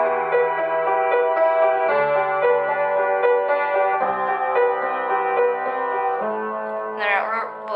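Solo piano plays the melody of a song, with steady, sustained notes shifting every couple of seconds, clear and close, and a short bit of talking near the end.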